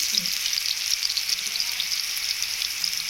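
Masala paste of ginger, garlic, cinnamon, cardamom and poppy seeds frying in hot oil, a steady even sizzle, close and moderately loud throughout.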